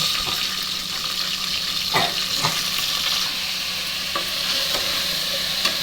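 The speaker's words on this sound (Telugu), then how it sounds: "ఇక సొరకాయ ముక్కలు వేస్తున్నా." Bottle gourd pieces fry in a pan with chopped onions and green chillies, giving a steady, fairly loud sizzle with a few sharp scraping stirs, close by and with no voices.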